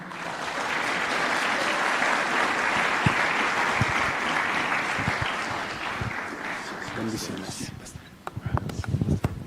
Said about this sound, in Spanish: Queremos darle la bienvenida, por favor, con un fuerte aplauso.